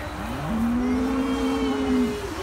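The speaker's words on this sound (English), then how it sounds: "That's a big cow." A cow at a farm fair gives one long, loud, close moo lasting about two seconds, rising at the start and dipping at the end, over low background murmur.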